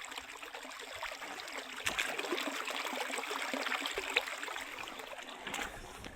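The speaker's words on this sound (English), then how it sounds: "Lovely spring water." Spring water flowing outdoors at a camp during a blizzard, a steady close trickle and gurgle of running stream water with small splashes, continuous and alone.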